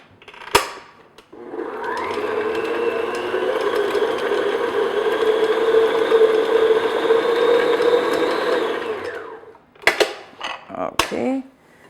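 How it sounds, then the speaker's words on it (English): An electric mixer beats butter on medium speed for white cupcake batter, a steady close whirring drone of about eight seconds framed by clicks and clatter as it starts and stops. "I'm just going to beat this on medium speed just until it's nice and creamy and smooth"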